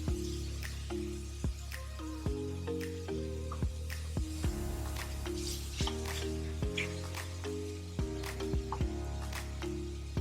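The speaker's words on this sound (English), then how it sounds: "We're going to keep on moving this hamburger around a little." Ground beef hamburger and onions frying in a pan while being stirred, a soft steady sizzle with scraping and squishing stirs, close and fairly quiet, with no voices.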